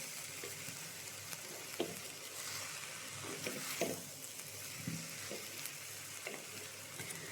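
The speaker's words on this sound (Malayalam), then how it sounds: "തേങ്ങ ഇട്ടതിന് ശേഷം നന്നായി ഇളക്കുക" Cabbage thoran with grated coconut is stirred in a frying pan, a steady soft sizzle with scattered scraping clicks of the spoon against the pan, fairly quiet and close, with no voices.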